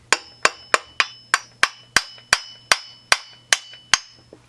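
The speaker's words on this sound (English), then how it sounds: "So you need a hammer that actually fits." A hammer strikes a tool inside a Stihl MS200T chainsaw to free the flywheel, about a dozen sharp metallic blows in a quick, even rhythm, close and clear.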